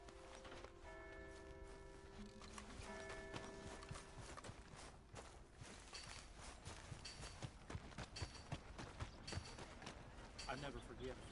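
In the Western video game Red Dead, a horse's hooves clop steadily on the ground, with a rhythmic walking beat mixed with game music and ambience, and brief tack and mechanism noises.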